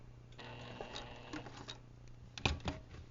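Home sewing machine back-stitching a quarter-inch pieced seam: a quiet, steady mechanical ticking patter of the needle running near and close, with a couple of sharper clicks toward the end as the stitch reverses.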